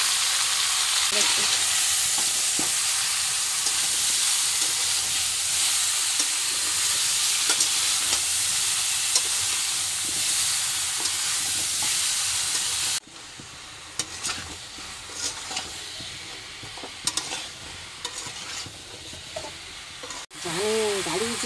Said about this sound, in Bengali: তো আমগুলো দিয়ে এবার একটু নাড়াচাড়া করে নিচ্ছি।